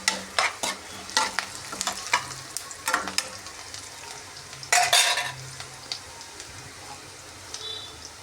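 Mustard seeds sizzling and popping in hot oil in a pan, a quick run of sharp crackles and stirring scrapes up close that thins out into a quieter hiss with occasional pops.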